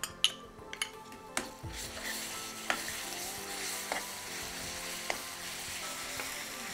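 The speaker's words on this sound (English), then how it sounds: "when we are frying the onions" Onions sizzle steadily in hot oil with ginger garlic paste while a spoon scrapes and clinks against the pot several times, close and fairly quiet.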